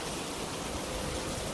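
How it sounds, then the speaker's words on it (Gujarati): Heavy monsoon rain pours down steadily over a flooded Gujarati village, a dense continuous hiss with no breaks, close and fairly loud. "અહીંયા જો વરસાદ તમે"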